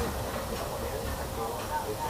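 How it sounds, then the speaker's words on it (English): Steam locomotive of the Walt Disney World Railroad at the Magic Kingdom, heard from aboard as a steady, close rumble with a breathy hiss, while faint voices murmur underneath. "By the way, we're traveling on pure steam power."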